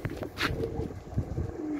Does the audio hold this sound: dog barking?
no